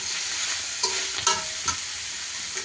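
Small potatoes frying in a pan give a loud, steady sizzle, broken by a few stirring scrapes and clinks.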